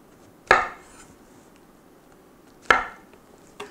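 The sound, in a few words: cutting sous-vide pork leg steak into four pieces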